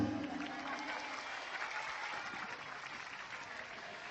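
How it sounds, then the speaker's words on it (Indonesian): Steady applause from a sizable crowd, continuous and fairly loud throughout, with no pauses. "Tepuk tangan"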